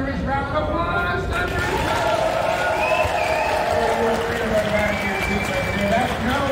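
A state fair stage show crowd applauds continuously, a dense steady clatter of claps mixed with cheering voices and crowd chatter, loud and sustained from start to finish.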